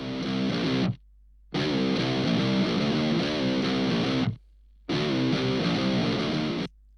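Heavily distorted electric guitar through a Brainworx Rocker amp plugin and an English 4x12 cabinet plays loud chugging riffs in two bursts, each cut by an abrupt silence.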